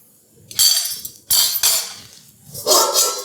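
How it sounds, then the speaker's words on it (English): Apple wood chips tumble into a stainless steel stovetop smoker in three separate pours, each a bright clattering rattle against metal, close and fairly loud, with short quiet gaps between. "the first thing we're going to do is we're going to put our wood chips in here"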